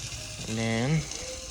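Ratchet wrench loosening bolts on a Honda 500 motorcycle during an oil change, a single close buzzing ratchet whir with rising pitch lasting under a second.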